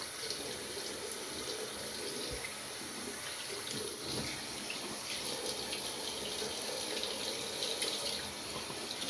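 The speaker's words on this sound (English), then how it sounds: "I'm gonna finish rinsing off" Tap water runs steadily and fairly loud into a sink while someone rinses off after a head shave, a continuous splashing wash with small shifts in flow and no talking.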